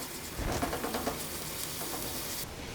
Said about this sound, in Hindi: लहसुन को भी हमने इतना फ्राई करना है कि इसकी खुशबू आने लगे